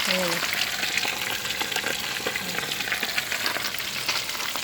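Fish frying in a pan, a loud, steady close-up sizzle and crackle of hot oil throughout, with a brief voice at the very start.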